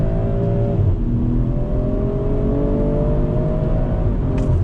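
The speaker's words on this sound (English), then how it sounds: "I'm gonna drop it down, third gear, second, on throttle." A car engine briefly dips as it downshifts, then climbs again under throttle, a steady loud drone heard from inside the car.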